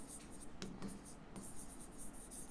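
Pen writing on paper, faint scratchy strokes in a few short bursts while filling in an accounting ledger format, quiet and close.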